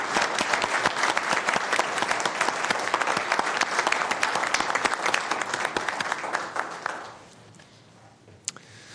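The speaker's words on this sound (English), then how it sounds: "One more round of applause." An audience at a Sacramento County Board of Supervisors meeting applauds, a dense, even clapping from a roomful of people for about seven seconds before it quickly fades to near quiet, with one sharp knock near the end.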